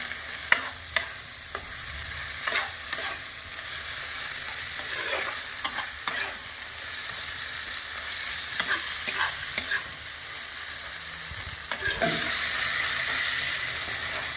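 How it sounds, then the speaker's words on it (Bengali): Spice paste for Bengali village-style mutton curry with potatoes fries in a pan while being stirred. Sharp spatula scrapes and knocks are scattered over a steady sizzling hiss, close up, with no talking. "একটু নেড়ে চেড়ে নিই, তারপরে জল দিয়ে কষিয়ে নেব ভালো করে।"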